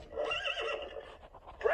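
A cartoon horse on a farm in a Peppa Pig game gives a short whinny, with a brief second neigh near the end, over a soft music bed.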